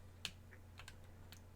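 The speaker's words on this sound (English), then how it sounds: "You definitely feel and hear the click" A few sharp, faint clicks from a button on a Razer Kishi V2 mobile gaming controller, spaced irregularly over a steady low electrical hum, with no talking.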